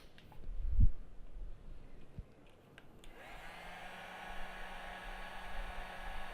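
A heat tool starts up partway through and blows a steady, moderately loud airy whoosh with a low hum while glue sets on a graveyard terrain model, after a few soft handling knocks.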